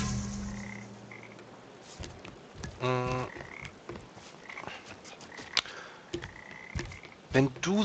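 Frogs croak in the video game Papo & Jo, with several scattered croaks and one drawn-out, throaty call rising over a soft ambient game backdrop.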